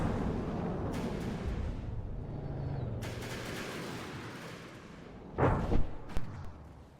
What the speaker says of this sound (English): And those missiles coming in.